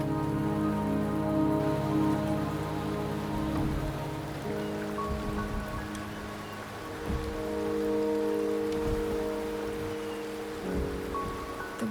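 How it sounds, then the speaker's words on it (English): Steady rain falls in the Wuthering Waves game world, a dense, even patter on surfaces that holds at a constant level throughout, with a low, sustained musical drone underneath and no one talking. "The rain is subsiding, and the sky will soon clear."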